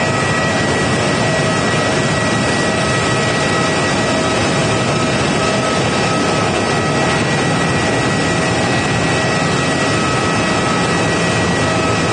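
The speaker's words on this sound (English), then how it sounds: "this is United Airlines flight 1883 and the 737-900ER, heading to the south side for a departure" A United Airlines Boeing 737-900ER's jet engines roar at Phoenix Sky Harbor Airport as it heads for departure. The sound is a loud, unbroken, broadband rumble and whine that holds steady throughout.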